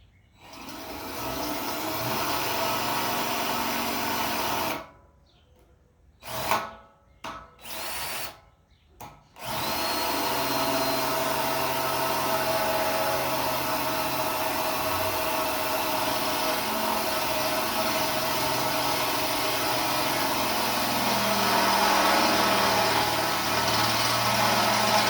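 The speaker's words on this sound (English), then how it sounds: "Those drill bits seem to work a little better." A power drill whirs steadily for most of the clip, cutting out briefly for a few short pauses and bursts before running continuously again, close and loud.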